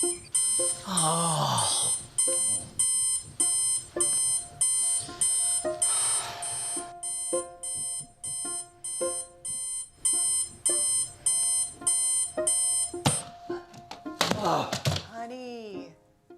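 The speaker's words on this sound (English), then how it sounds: "Honey, I don't know why you still have that alarm." An alarm clock rings with loud, regular repeating electronic bursts in an even rhythm for over ten seconds, and a voice briefly breaks in near the end.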